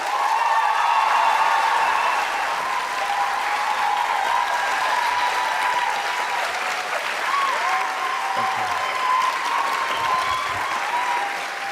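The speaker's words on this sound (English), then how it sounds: "please welcome with a big round of applause" A studio audience in Berlin applauds steadily to welcome actors Jenna Coleman and Peter Capaldi, a dense, sustained roar of clapping for about twelve seconds, with faint cheering and no clear talk above it.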